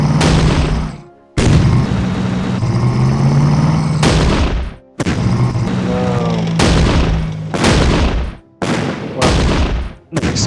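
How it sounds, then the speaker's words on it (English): Artillery rounds fire and land in the Battle Academy 2 Eastern Front game, with a series of heavy booms and rumbling blasts coming in quick succession, separated by brief silent gaps, loud and close. "here's our artillery firing at the square we specified"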